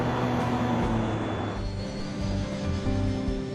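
Steady broadband drone of a 14-seat Fairchild Metroliner twin turboprop climbing toward cruise altitude, heard continuously with low tonal engine hum and a faint high whine, no voices.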